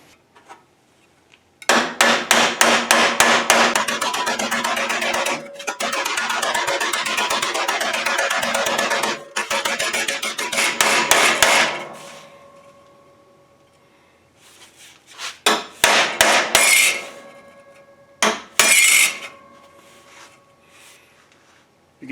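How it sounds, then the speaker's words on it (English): Sheet metal on a classic Mustang being hammered down to form a joggle during a torque box install, a loud rapid run of metallic blows in bursts with short pauses, close by and alone without talk. "just hammer this down to create that joggle"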